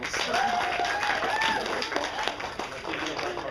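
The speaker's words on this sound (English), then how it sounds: "Give yourselves applause." Applause from an audience at a Renaissance faire show, a dense wash of clapping that holds steady throughout, with a voice talking or singing over it.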